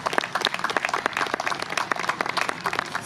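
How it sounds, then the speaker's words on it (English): Crowd applause at the opening ceremony of Bradbury Park, dense steady clapping from many hands, close and continuous throughout with no talk over it. "So a big round of applause for them as well."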